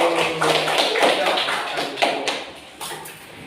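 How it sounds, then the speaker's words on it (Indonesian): Schoolchildren applaud in a classroom, a dense patter of hand claps with several sharper accents, mixed with voices talking. "Oke, tepuk tangan dulu."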